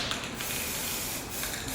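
A spray paint can hisses steadily onto handlebars for a short, even burst of close, airy spray with no talk.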